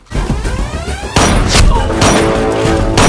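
Loud, chaotic film gunfight noise with repeated sharp bangs and crashing impacts over a dense rumbling score.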